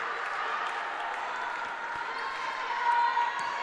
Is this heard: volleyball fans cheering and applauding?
yes